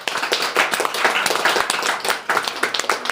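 A class applauds together at a show, a dense, steady clatter of many hands clapping for about three seconds, with no talk over it.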